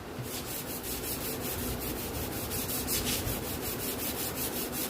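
Steady back-and-forth hand sanding with fine-grit paper on a trailer bearing part, a soft continuous rasping scrub with even strokes, close and fairly quiet, with no talk.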